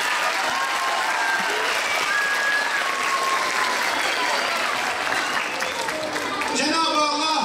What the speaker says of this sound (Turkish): kurslarımıza gelen öğrencilerimize de kocaman bir alkış istiyorum